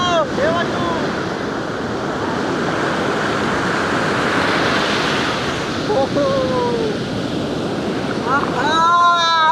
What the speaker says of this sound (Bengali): উত্তাল সমুদ্র, এটাই হলো বাগদা সমুদ্র সৈকত